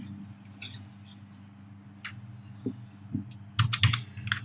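Someone types on a computer keyboard that has a fault. Scattered sharp key clicks come in short irregular bursts, closer together toward the end, over a faint low hum.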